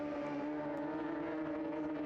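Race car braking hard into the first turn after a run down the straight, a loud continuous engine drone with shifting tonal whine, steady throughout and without talk.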